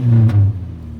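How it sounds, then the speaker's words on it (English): A truck's exhaust rumbles loudly and close, with a strong low revving note that swells for about half a second and then settles into a quieter, steady idle burble. "Why not give y'all some exhaust notes on the truck as well?"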